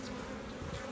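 Honeybees buzzing around an open hive, a steady close drone of many wings with no break, fairly soft and continuous.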